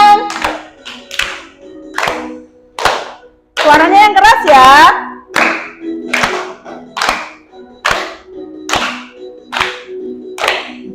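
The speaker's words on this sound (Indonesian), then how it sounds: "Tepuk tangan." Children in an Indonesian classroom clap loudly in a slow, steady beat, each sharp hand clap spaced under a second apart, with a voice speaking and sing-songing briefly in the middle.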